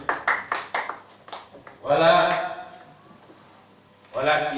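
A church congregation claps in a quick run of sharp, rhythmic claps during a worship service. Voices and talk take over after the claps.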